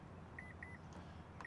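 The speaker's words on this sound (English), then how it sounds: "Listen for the beeps." Power tailgate on a 2025 Honda Pilot TrailSport beeping as it is set to maximum height: a quick run of about four short, faint electronic beeps over a steady low background hum, with no talking.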